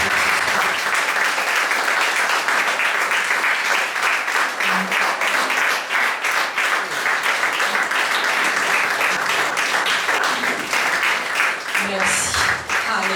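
A church congregation at a birthday celebration applauds in acclaim of the Lord, a dense sustained loud clapping that carries on steadily with voices mixed in.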